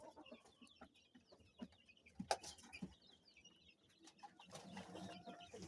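Kienyeji hens cluck softly in a poultry house, scattered low clucks and calls with occasional rustling, faint and intermittent, no talking.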